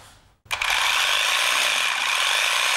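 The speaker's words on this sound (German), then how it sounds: "Das ist der Linearschleifer." A linear sander runs back and forth on wood, starting abruptly after a brief quiet moment and then holding a loud, steady, broadband grinding buzz to the end.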